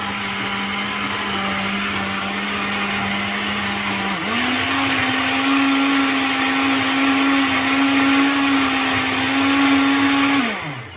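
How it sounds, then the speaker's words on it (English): An electric mixer whirring through gazpacho soup, a loud steady motor hum that jumps up in pitch partway through, then holds before cutting off, with no talking over it. "give it a good old whirl around in the mixer until it's a sort of consistency like that, soup consistency"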